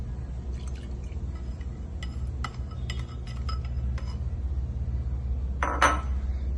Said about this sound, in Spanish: Lo volvemos a colocar y vaciamos el aceite.